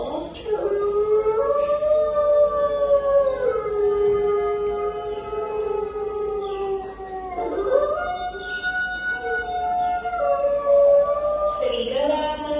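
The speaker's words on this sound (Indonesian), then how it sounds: "Serigala melolong panjang di malam hari." A long, drawn-out wolf howl rises and holds, then breaks and resumes with a second sustained howl, clear and prominent with no other sounds.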